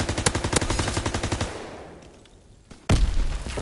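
Rapid automatic gunfire in a World War II shooter game rattles off in a close, loud burst, fades into a quiet gap, then another sharp burst of shots breaks in at the end.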